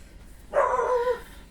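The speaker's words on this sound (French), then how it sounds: "Désolée, ma chienne râle." A pet dog gives a short, low grumbling vocalization, close by and alone, lasting about half a second in an otherwise quiet indoor room.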